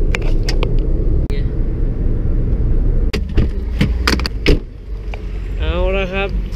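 A car drives along with a steady low road rumble under a few sharp clicks and knocks from inside the cabin, and a voice speaks briefly near the end.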